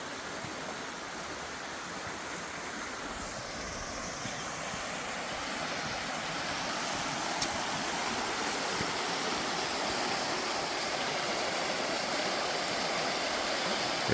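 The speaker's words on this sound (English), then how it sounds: "but I hear water. So I gotta go down there" The Credit River flows steadily, a dense, continuous rushing wash of water heard close by with no pauses, talk or other sounds on top.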